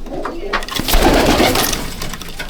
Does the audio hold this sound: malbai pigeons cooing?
yes